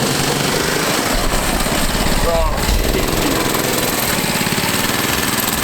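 A small 212 engine swapped into a mini ATV runs steadily up close, a rough buzzing rattle that never lets up, with voices briefly heard over it.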